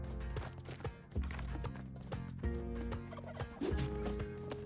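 Turkeys in the video game Spelunky 2 gobble repeatedly in short, warbling bursts. The calls sit over game music and sound effects, loud and close.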